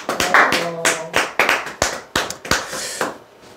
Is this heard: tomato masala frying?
no